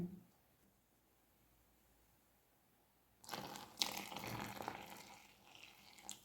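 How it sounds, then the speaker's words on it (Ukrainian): Boiled water is poured into dough in a home kitchen. The clip is quiet at first, then a sudden close splashing gush of liquid lasts a few seconds. "а тепер додаємо водичку кипячену"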